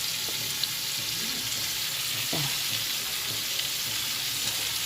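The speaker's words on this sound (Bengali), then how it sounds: "এদেরকে মশলাটা দিয়ে একটু ভেজে নেবো, আলুগুলো।" Potato pieces fry with ground cumin and turmeric in a pan, a soft, constant sizzle with a couple of faint stirring scrapes, close and unbroken by talk.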